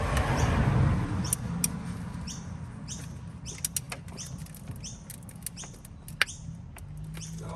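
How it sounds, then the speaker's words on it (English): Big ratchet with a 14mm socket turning a starter motor bolt on a Lexus RX330 with a Toyota 3.3 litre V6, a series of sharp clicking ticks in short bursts, close and fairly quiet over low background rumble. "so I've gone for my big ratchet"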